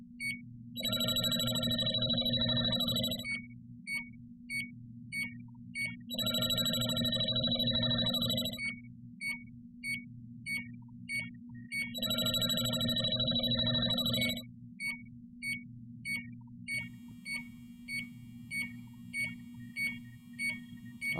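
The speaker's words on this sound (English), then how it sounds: "that will alarm until the refrigerant wears off" A JB Industries LD5000 refrigerant leak detector sounds its alarm in three long bursts of high, piercing electronic tones, each about three seconds, separated by quieter steady beeping, loud and close with no talk.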